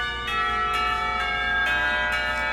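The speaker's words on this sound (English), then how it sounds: "The lunch bell rings, signaling a return downstairs." Lunch bell in a school setting in the visual novel game Katawa Shoujo, ringing as a sustained bright chime struck about five times in a steady rhythm, loud and close, with no talk.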